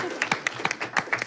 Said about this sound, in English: Oh, you're going to get claps before and after.